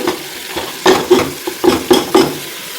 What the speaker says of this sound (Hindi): इसको 20 सेकंड के लिए फ्राई करेंगे।